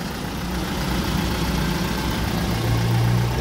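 A Kia K2500 diesel engine idles roughly with cylinder 4's injector misfiring, giving a steady, loud, close mechanical drone with an uneven low throb throughout.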